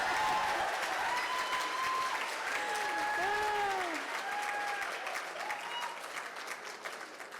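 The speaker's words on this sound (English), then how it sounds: "you're going to give her a thunderous round of applause as we bring our CEO, Alyssa Macy, to the stage" Sustained applause from a gala crowd as a CEO is welcomed to the stage, a dense steady roar of clapping lasting throughout, with whistles and cheering tones rising over it and slowly tapering near the end.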